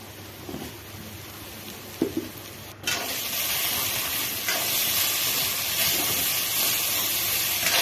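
Semya vermicelli fries in a pan with a steady broadband sizzle while a spoon stirs through it, a few scraping knocks early on, then the hiss swells louder and holds to the end.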